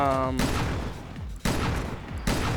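Shotgun blasts in Resident Evil Revelations 2 Raid Mode, two or three heavy booming shots with long rumbling tails under game sound effects, a voice talking over them.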